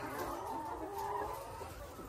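A steady chorus of Lohmann layer hens clucking fills a poultry farm building, a busy, moderately distant flock sound with no pauses.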